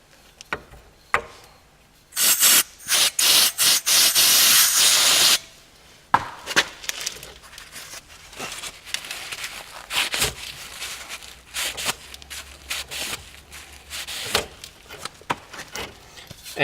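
A brake caliper slide pin from a 2003 Citroen Xsara Picasso is scrubbed clean, with close, irregular scraping and rubbing strokes and a burst of harsh, hissing spray partway through, then scattered knocks and handling noises.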